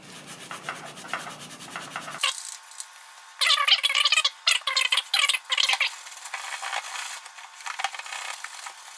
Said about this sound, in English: So now I'm just going to scrub the rest and I'll show you how they come out.